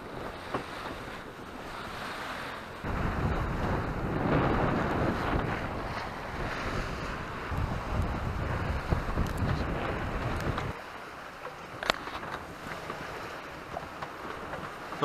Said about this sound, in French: Le vent change, il faut que je reborde toutes mes voiles.